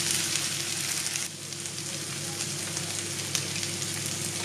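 Feta cooking down slowly in a pan for Bouyiourdi gives a steady, close sizzle and frying hiss throughout, with no talking.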